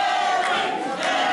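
A pro wrestling crowd at a PPW show roars loudly in a sustained burst, many voices blending into a dense wall of cheering.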